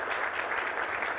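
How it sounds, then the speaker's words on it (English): Audience applause for participants at a regional idea pitch competition final, a steady, dense wash of clapping filling the whole moment at moderate level, with no clear voices over it. "Let's give our participants just one more round of applause."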